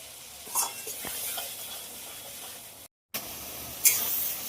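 Soft, steady sizzling of ground spice paste with green chillies frying in a pan for a pomfret fish dish, with occasional scrapes of stirring and a brief gap in the middle.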